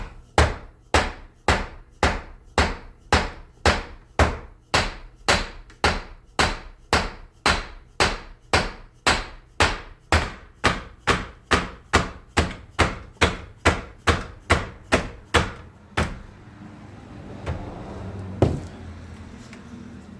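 Steady hammer blows pound at a tapered part on a 1957 vehicle, about two strikes per second, sharp and loud, for roughly sixteen seconds, then stopping and leaving quieter shuffling and handling noise.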